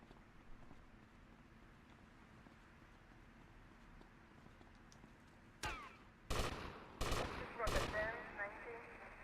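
Gunfire in GTA Vice City: a quiet stretch, then four sharp, loud bursts of shots in quick succession near the end, each ringing out over a faint background.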